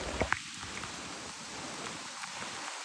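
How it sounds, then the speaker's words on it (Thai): Heavy rain falls steadily outdoors, a dense even hiss of drops on surfaces with a couple of faint taps up close. "ฝนตกหนัก"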